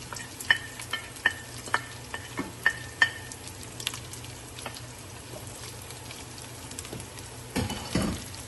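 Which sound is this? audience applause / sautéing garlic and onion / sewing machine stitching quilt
sautéing garlic and onion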